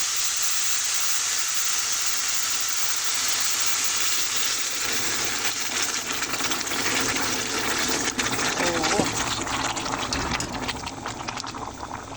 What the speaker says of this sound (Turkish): Burada da kaynayan sıcak suyum var. Onu da üzerine.